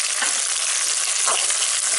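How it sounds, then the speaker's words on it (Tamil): Dried turkey berries, garlic and onion sizzle steadily while sautéing in a pan, a dense continuous frying hiss with faint stirring scrapes, no voices. "இப்போ வந்து சுண்டக்காய் வத்தல் பூண்டு வெங்காயம் நல்லா வதங்கிருச்சு"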